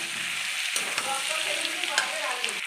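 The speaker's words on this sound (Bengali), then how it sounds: "আলুগুলো পেঁয়াজের সঙ্গে লাল লাল করে ভালো করে ভেজে নেব" Potatoes and onions frying together in a pan for a pointed gourd and prawn dish, a continuous close sizzle with light crackles and a few stirring clicks.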